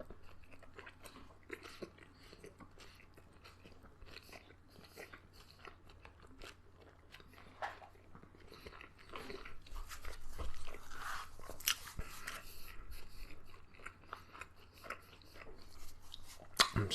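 Someone bites into and chews a large falafel wrap in a plain outer wrap, with soft crunching and wet mastication close to the mic, growing louder and busier in the second half; no talking.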